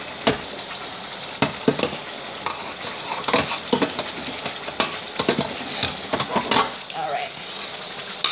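Spinach, onion and tomatoes sauté in a pot, giving a steady close sizzle broken by repeated sharp clacks and scrapes of stirring, with a brief voice speaking.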